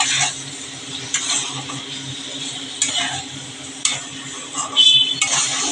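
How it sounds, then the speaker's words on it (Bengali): Utensil scraping and stirring of fried potatoes with spices in a pan, with a quiet sizzle underneath, punctuated by several sharp clinks of a spoon against metal. "আলুগুলো দিয়ে আমি আর দু মিনিট কষিয়ে নেব"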